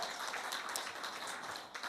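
Seminar audience applauding together at a new-year talk, a steady wash of hand claps held at an even level throughout.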